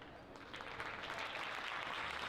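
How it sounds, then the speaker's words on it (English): Crowd applause in a high school gym during a varsity boys basketball game, a faint, distant, steady clatter of clapping that swells slightly after the first half second and holds without talk. "And a round of applause as Plummer"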